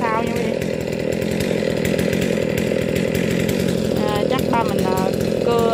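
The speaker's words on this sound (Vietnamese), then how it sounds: "Ba mình cưa ở dưới này luôn, hạ nguyên cái thân luôn." A chainsaw cuts through the trunk of a royal palm in Gò Công, running loud and steady close by the whole time, its engine tone wavering slightly as the blade bites, with voices talking over it.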